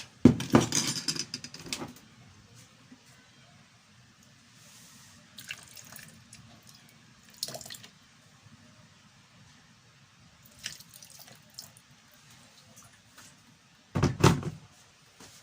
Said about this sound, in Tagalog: I put some little bit of water there